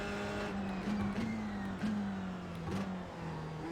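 A race car engine in the iRacing VR sim racing game, a steady droning whine that rises and dips through gear changes, close and continuous with no talk.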